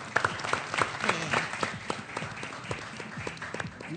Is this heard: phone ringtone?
no